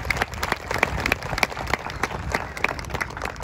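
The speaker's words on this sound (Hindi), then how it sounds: "आप सबसे गुजारिश करता हूँ कि उनके लिए एक ज़ोरदार तालियां बजाएं" Applause from the audience at a World Heritage Day event featuring traditional Nokte and Tutsa tribal dances, a steady patter of clapping at moderate level.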